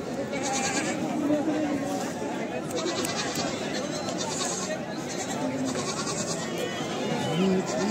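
A goat bleats a few times over ongoing chatter and background voices at a goat market, the calls fairly close and mixed into the crowd noise.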